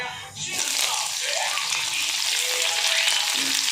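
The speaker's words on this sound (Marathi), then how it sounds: "एक चमचा मोहरी चांगलं तळू द्यायचं त्यानंतर बघा बारीक चिरलेला कांदा" Chopped onion and mustard seeds fry in hot oil in a pan, giving a steady close sizzle with some watery hiss, running continuously after a brief quiet start.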